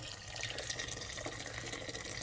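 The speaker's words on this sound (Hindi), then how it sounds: "अब इस स्टेज पे मैं दोबारा इसमें पानी डालूँगी, और मैंने केटल वाला ही पानी डालना है" Hot water from a kettle pours into a pot of bones in a continuous splashing, gurgling stream that lasts throughout, close by and with no voices.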